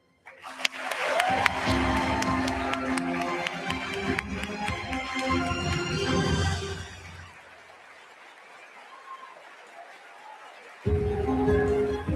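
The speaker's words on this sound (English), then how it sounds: "Let's give one final round of applause for our crew." Audience applause and cheering for a spaceflight crew at a watch party, a loud sustained burst of clapping for several seconds that fades, then returns abruptly near the end.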